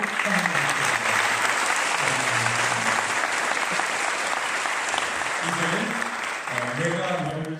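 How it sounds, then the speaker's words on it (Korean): A church congregation claps warmly to welcome visiting elders, a steady loud wash of applause filling the room throughout, with a voice talking over it in places. "우리 큰 박수로 환영드리겠습니다"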